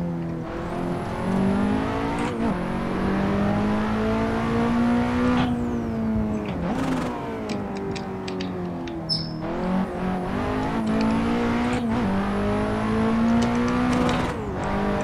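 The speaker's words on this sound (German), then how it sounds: "Ganz ein seltenes Citroën Rallye-Auto." A rare Citroën rally car in the Assetto Corsa racing game, driven on the Nordschleife, revs loudly and steadily with rising and falling engine pitch, gear shifts and brief lifts, close and continuous with no talking.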